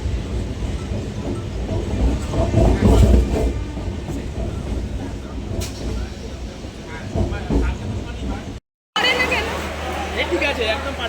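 A train pulling into Howrah station in India, its steady rumble and rolling clatter filling the carriage, with passengers chattering and talking throughout and a brief cut near the end.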